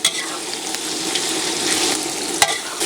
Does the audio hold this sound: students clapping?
no